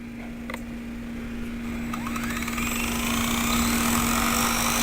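A Blade 130x RC helicopter with a stripped main gear flies nearby, giving a thin, high whine over a steady hum that slowly rises in pitch and loudness as the rotor spins up.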